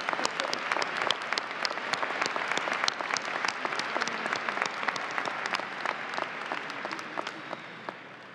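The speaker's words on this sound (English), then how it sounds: "And let's have applause for the class officers and for Dominic." Graduates and guests at the Siena College 2019 commencement ceremony applaud the class officers. Crisp, individually distinct claps form a steady close round that fades slightly toward the end.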